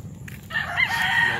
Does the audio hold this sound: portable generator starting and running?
no